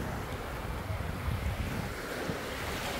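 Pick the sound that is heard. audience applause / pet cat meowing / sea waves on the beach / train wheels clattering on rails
sea waves on the beach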